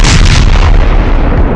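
A handgun fires a J-B Weld bullet in one loud, close blast that fills the moment and rolls off in a short decaying boom, with no talking.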